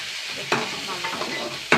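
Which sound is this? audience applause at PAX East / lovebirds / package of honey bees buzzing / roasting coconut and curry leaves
roasting coconut and curry leaves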